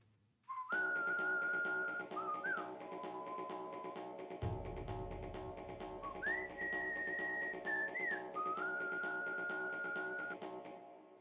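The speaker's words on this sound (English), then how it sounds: "a auto tune on the whistling? Just max auto tune." A steady whistled melody heavily auto-tuned to an artificial, pitch-corrected quality, long held notes sliding between steps over a low droning backing that thickens midway.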